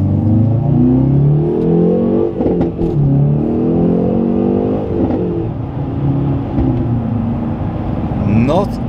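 A Hyundai Veloster N engine revs through its exhaust, close and loud, with a voice talking over the steady engine drone and a quick rising rev near the end.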